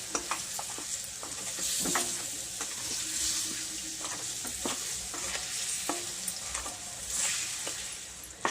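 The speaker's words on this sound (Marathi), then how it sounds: "गूळ पण 2 मिनिटं परतून घ्यायचा। मेल्ट होईपर्यंत।" Jaggery melts in a pan while being stirred, a steady close sizzle punctuated by repeated scraping strokes of a spoon throughout.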